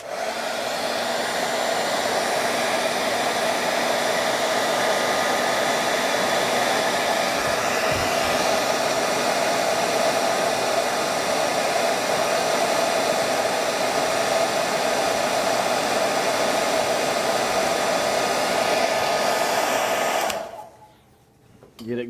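A hair dryer blows steadily and loudly for about twenty seconds, warming the plastic tail of a 1984 GI Joe Cobra Rattler toy during restoration, then cuts off abruptly near the end.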